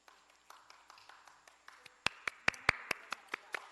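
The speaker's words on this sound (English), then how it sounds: "All the hands are going." Participants on a Zoom meeting clapping hands: sparse, faint claps at first, then louder, sharper, quicker claps building toward the end, close and dry.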